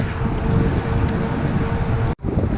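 Strong wind buffets the microphone of someone out on the road, a loud, constant roar with gusts that cuts out briefly near the end and then returns.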